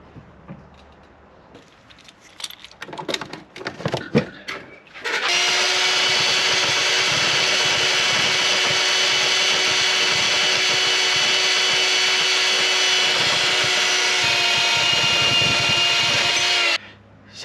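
A table saw cuts through wood with a loud, steady whine that lasts about twelve seconds. Before it starts there is some clattering and handling noise, and the blade sound cuts off abruptly at the end.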